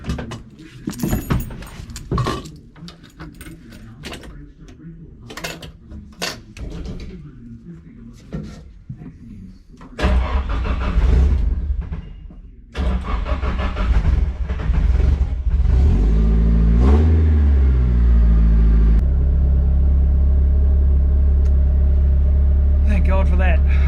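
A car engine with a newly replaced starter cranks and catches after handling and clatter, then roars into loud, sustained revving close by, with someone talking early on.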